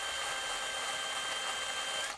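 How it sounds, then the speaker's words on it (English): A small drill boring out a rivet on a diecast model van, a steady high whirring grind that runs unbroken at close range and cuts off right at the end. "I got one little rivet I got to drill here"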